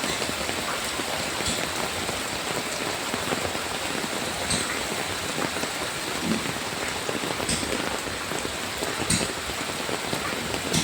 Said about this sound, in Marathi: जेवढ्या स्पीडनी पाऊस पडला तेवढ्या स्पीडने पाऊस पाणी धावतंय